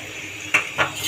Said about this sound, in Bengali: আমি এখন তরকারিটা ঢেকে দিব।